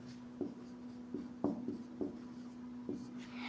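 Chalk or marker strokes on a board while SI units are being written, with several short scratchy taps and strokes spaced irregularly, quiet and close over a steady low hum.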